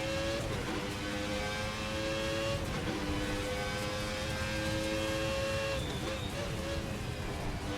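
A 1990 V10 Formula 1 car in Assetto Corsa holds a loud, high-pitched engine whine, with its pitch dropping in roughly three downshift blips, alone and close throughout.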